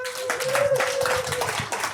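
A crowd aboard a cruise ship claps steadily in a dense patter of applause, with a voice faintly audible through it.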